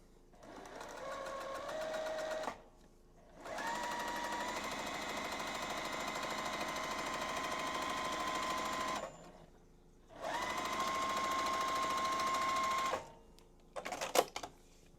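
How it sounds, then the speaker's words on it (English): A domestic sewing machine stitching quilt half-square triangles, running in steady whirring bursts of several seconds each with brief pauses between, close and clear, with a short clatter at the end. "So we're gonna go ahead and sew 4 sets of lines, okay?"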